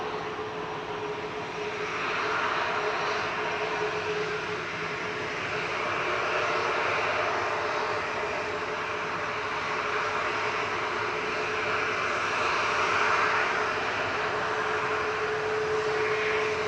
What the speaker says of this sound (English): Qatar flight 23 from Doha, just touching down A7BHQ this evening, the 787-9 Dreamliner